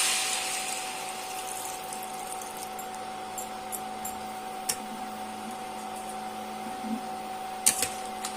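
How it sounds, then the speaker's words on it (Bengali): Water pours into a pot of pumpkin and potato curry, making a steady rushing hiss that is strongest at the start and then trails off into a quieter background, with a few faint clinks. "দিয়ে দেবো এবার পরিমাণ মতন জল।"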